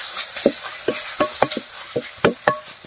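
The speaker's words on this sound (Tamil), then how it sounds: "அரைச்சி வச்ச மிளகாய் சாந்து, கூடவே கொஞ்சமா மஞ்சள் சாந்து போட்டு கிண்டா தம்பி." A spoon or spatula stirs ground chili paste and turmeric paste in a hot frying pan, giving about nine sharp scraping strokes over a soft sizzle, close and clear with no talk.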